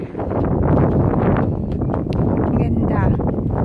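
Strong gusting wind buffets the microphone in a loud, low rumble throughout, on an open windy field where paragliders fly, with a voice speaking over it.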